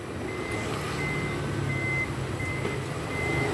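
A Toyota Vellfire ANH30's power tailgate closes to a series of evenly spaced electronic warning beeps over a low mechanical hum, ending in a soft thunk as it shuts.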